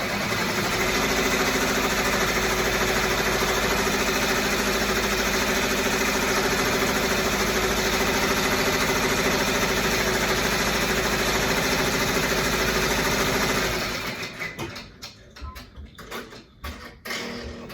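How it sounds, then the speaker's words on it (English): Embroidery machine stitching a placement outline on stabilizer for a face mask, a steady loud mechanical whir and hum lasting about fourteen seconds, then stopping abruptly into a few quieter clicks and handling sounds. "we're going to sew the pattern button"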